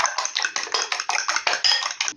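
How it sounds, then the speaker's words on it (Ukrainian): A fork beats eggs in a bowl with quick, rhythmic clinking taps against the sides, about a dozen strokes in steady succession, close and alone. "І тепер їх вилочкою так трошечки переб'ю."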